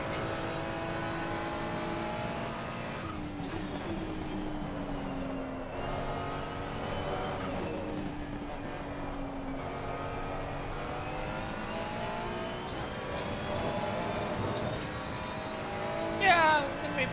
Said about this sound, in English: Nice downshifts and blow-off valve of the turbo, stuff like that.